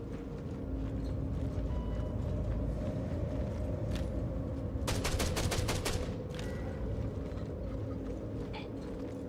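In a shooter video game, suppressing fire comes as one rapid burst of repeated shots midway, crisp and evenly spaced, over a steady low background hum.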